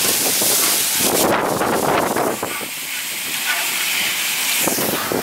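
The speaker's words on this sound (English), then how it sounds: "we have high winds, my dudes, and it's raining" Loud, roaring wind buffeting the microphone in heavy gusts during rain outdoors, a constant hissing rush that swells and eases without letup.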